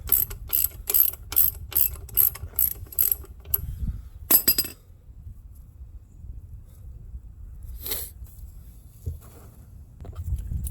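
A hand ratchet loosening a 24 mm banjo bolt on a Fiat 1.4L turbo engine gives a quick run of sharp, close clicks, then a short burst, then quiet with a couple of isolated clicks and faint handling noise.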